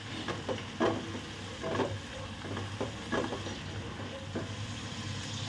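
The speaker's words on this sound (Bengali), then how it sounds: "এদিকে আমার পেঁয়াজটাও ভাজা হয়ে যাচ্ছে তরকারির" Onions frying in a pan for a curry, a steady soft sizzle broken by repeated scraping stir strokes, close and fairly quiet with no talking.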